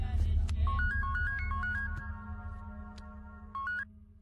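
An outgoing phone call rings in a film scene: a quiet electronic ringback of short stepped beeps repeating, heard close over a low background hum with no voices.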